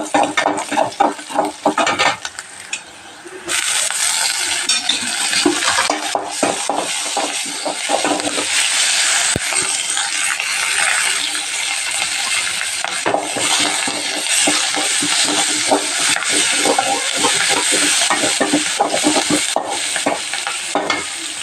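Cinnamon sticks and cloves sizzle in hot oil for pudina biryani, a steady loud frying hiss with a spoon stirring and scraping the pan and occasional metallic clinks.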